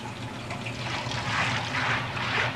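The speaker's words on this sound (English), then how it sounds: "The best way to clean the wok is use hot water." Hot water running and splashing in a wok while it is cleaned after cooking pad Thai shrimp, a steady close rush that swells slightly toward the end.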